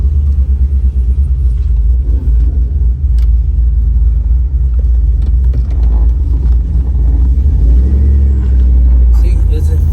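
A 2WD-swapped Yukon Denali engine runs with a loud, deep, continuous rumble that rises slightly toward the end, with a voice talking over the engine noise.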